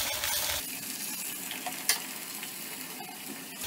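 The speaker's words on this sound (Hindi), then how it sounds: "एक पूड़ी डालेंगे और इसे पकने देंगे" Sabudana puri for a fasting-day recipe frying in hot oil, a steady close sizzle and crackle that is louder at first, then settles, with a brief clink partway through.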